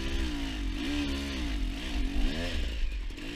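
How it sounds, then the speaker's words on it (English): A motorcycle engine catches and runs unevenly after a kickstart, its close, throaty exhaust note wavering up and down in pitch with sputtering revs, no one speaking. "Can't even kickstart the bike properly anymore."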